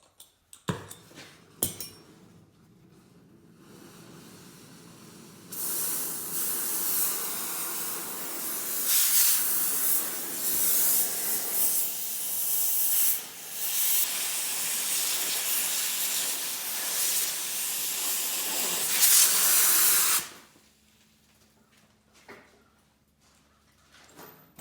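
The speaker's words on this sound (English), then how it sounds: "I'm going to start cutting on my plate to notch out for the 19 inches" A steel plate being cut to notch it for a homemade gooseneck hitch install gives a loud, sustained hissing roar for about fifteen seconds, close by, with brief clanks before and after and no talking.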